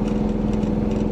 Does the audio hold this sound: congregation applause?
no